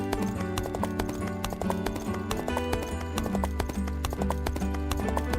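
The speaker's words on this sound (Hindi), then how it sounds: "घोड़े पर चढ़कर अपने गांव के लिए निकल पड़ा।" Horse hooves clip-clop steadily as the animal is ridden toward a village, a regular rhythmic beat that stays close and loud throughout, set against a dense musical background.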